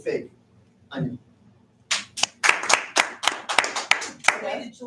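A studio audience claps through a series of short, sharp bursts of applause while voting in a quiz game, with a brief voice speaking just before the clapping starts.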